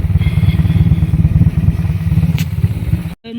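A motorcycle with a loud, wide-bore exhaust chugs in a fast, steady throb close by, with a sharp rasp in the beat. The sound cuts off abruptly just before the end.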